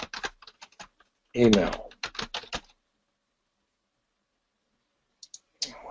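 Someone types on a computer keyboard in quick clusters of close, crisp key clicks, with a brief stretch of talking partway through.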